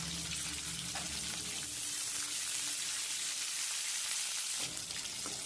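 Green chillies fry in hot oil for a coconut chutney, giving a steady, close sizzle that holds evenly throughout with no talking.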